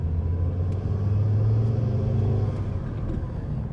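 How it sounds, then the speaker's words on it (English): Steady, loud turbocharged engine rumble from a Ford S-Max 2.5T 20v fitted with an induction kit, a low droning hum holding continuously with slight rises as it revs, no voices present. "you can hear the nice turbo sound now"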